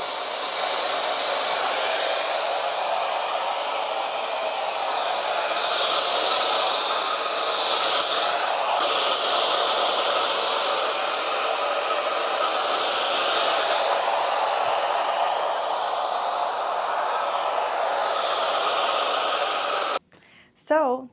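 Hair dryer blowing air onto type 3 curly hair, a loud continuous hiss and whoosh that swells and dips for about twenty seconds before cutting off briefly near the end.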